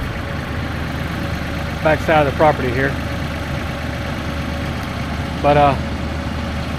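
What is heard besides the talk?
Massey Ferguson 4710 tractor engine idling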